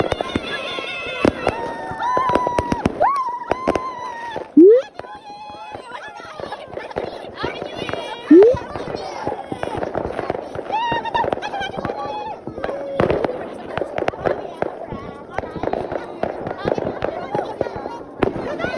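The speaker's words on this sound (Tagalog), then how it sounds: "oh, fireworks." Rapid crackling and popping of New Year fireworks in Finland, many sharp bangs in quick succession, with people chattering and calling out over the noise.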